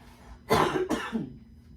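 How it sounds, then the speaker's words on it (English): Two quick, harsh coughs close to the microphone, one right after the other, followed by a brief throaty rasp in a quiet room. "I had to cough."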